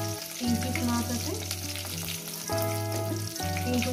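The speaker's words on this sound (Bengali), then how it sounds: "আমি একেবারে ভেজে নিচ্ছি" Three pieces of rui fish fry in hot oil, giving a steady, loud sizzle that carries on without a break, with a faint tonal hum running underneath.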